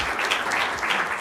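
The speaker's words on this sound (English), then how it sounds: "So please, a nice warm round of clapping for Anita." An audience at a morning colloquium lecture breaks into a short, steady burst of warm applause, continuous and fairly loud throughout.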